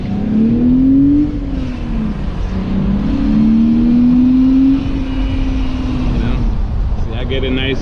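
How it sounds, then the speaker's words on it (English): A BMW Z3's naturally aspirated straight-six revs up loud and close in two smooth, rising sweeps toward about 6,000 rpm before settling back, with a brief rattle near the end. "Get a nice clean rev almost up to 6 grand."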